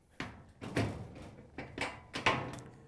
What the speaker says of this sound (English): you can lift up on the door and pull it out of the frame